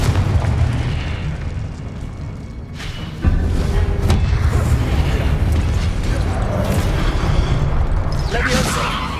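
A fiery blast spell cast in the Hogwarts Legacy video game, heard as heavy booming bursts with a sharp onset around midway, followed by sustained rumbling and crackling mixed with game sound effects.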